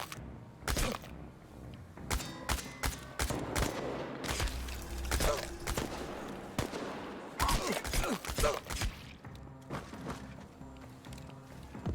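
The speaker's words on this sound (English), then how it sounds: "He's shooting at me through the building." Enemy gunfire in the game Chernobylite, sharp irregular shots and short bursts at moderate distance mixed with thuds and impacts, fairly quiet overall.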